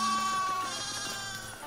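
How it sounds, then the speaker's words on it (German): Sheep bleat in the farming and building video game Foundation. Several clear, close bleats ring out over a low steady game backdrop, and no one speaks. "Ganz viele Schafe."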